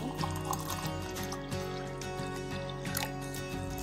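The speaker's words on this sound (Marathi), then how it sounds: "आता मी त्यामध्ये थंड पाणी टाकणार आहे।" Cold water pours into a glass holding a spoonful of raw mango panha concentrate, a steady faint trickle running throughout without talk.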